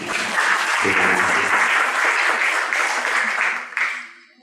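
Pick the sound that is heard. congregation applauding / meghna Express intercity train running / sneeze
congregation applauding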